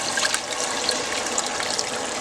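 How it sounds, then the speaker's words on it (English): Chicken stock being poured over browned flour-coated chicken in a pan gives a steady close splashing, liquid hiss lasting throughout with no talk. "I'm going to add our chicken stock. Gonna pour that over top."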